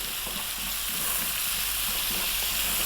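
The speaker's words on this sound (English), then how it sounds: "we're gonna go for another 3 or so minutes, stir frying this around" Ginger and garlic stir frying in a hot pan, a constant crackling hiss with faint scraping as they are stirred around, fairly close and continuous.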